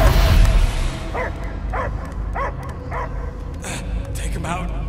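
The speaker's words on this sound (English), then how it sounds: "I hear only barking." A dog in the video game Marvel's Guardians of the Galaxy barks in a run of five or six evenly spaced yelps with whimpering tones, over a low ambient game rumble, with voices talking around it.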